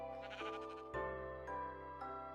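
Sheep in the Minecraft video game bleat three times in quick succession, loud and close, with no talking over them.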